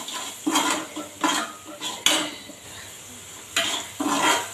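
Onions with salt and turmeric stirred in a pan with a metal spoon, close clattering scrapes against the pan in repeated bursts, separated by short quieter stretches with a faint frying hiss underneath.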